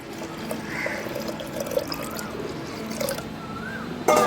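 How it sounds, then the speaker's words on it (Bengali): Water pours steadily into a pressure cooker holding lentils for dal, a continuous trickling fill with a few drips and a clunk near the end. "দিয়ে দিচ্ছি পরিমাণ মতো জল"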